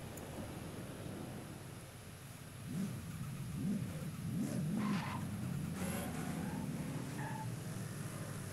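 Ford Mustang in the racing game Forza 5, engine droning steadily with rising revs and tyre skid squeal while drifting, continuous and moderately loud with no talk.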